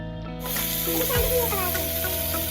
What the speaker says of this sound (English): Now in the hot iron plate, apply sizzler sauce.